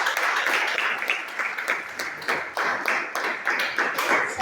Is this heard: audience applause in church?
yes